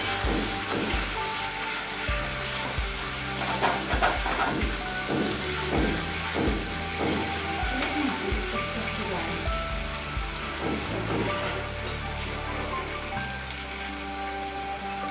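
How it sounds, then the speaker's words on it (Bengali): Arum stolons, pomfret, chopped tomato and poppy seed stirred in a frying pan, a busy close sizzle broken by repeated scraping strokes of the spatula, with no talk. "পোস্তর সঙ্গে ভালো করে এটাকে নাড়াচাড়া করবো"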